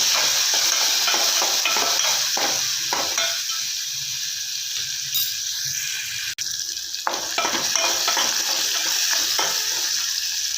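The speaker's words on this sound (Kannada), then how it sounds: "ಕಟ್ ಮಾಡಿ ಇಟ್ಕೊಂಡಿರೋ ಟೊಮೆಟೊ ಹಾಕೋಣ ಚೆನ್ನಾಗಿ ಮಿಕ್ಸ್ ಮಾಡ್ತಾರೆ" Chopped tomatoes being stirred in a frying pan for a North Karnataka style peanut sambar, a steady sizzle with scraping spoon strokes running throughout, close and fairly loud with no talking.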